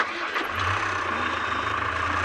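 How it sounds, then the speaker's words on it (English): Noisy safari vehicle engine, likened to a tractor, pulling forward slowly on a South African game drive, a loud steady low rumble held close throughout. "Sorry, I'm driving a bit of a tractor now at the moment. The engine's quite noisy"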